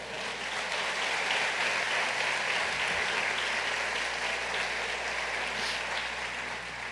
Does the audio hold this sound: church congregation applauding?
yes